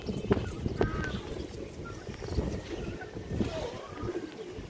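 Male pigeons at a pigeon farm coo in low, throaty bursts amid a shuffling, rustling background, several birds calling close by.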